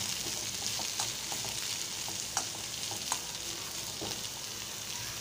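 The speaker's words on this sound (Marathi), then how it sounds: "ओल्या नारळाचं खोबरं वरून घालते आणि कोथिंबीर घालते आणि परत एकदा परतून घेते" Potato vegetable sautéing in a pan with grated fresh coconut and coriander in a Konkan-style boiled potato dish: a steady soft sizzle with occasional light stirring clicks, close and continuous, no talking.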